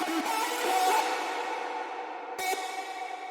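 A dense wash of reverb without peak-controller ducking hangs and sustains continuously, with a brief sharp hit near the end smeared into the long tail.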